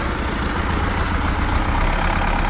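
A steady, loud MTZ-82 tractor engine idles with a low, even rumble, running continuously without change.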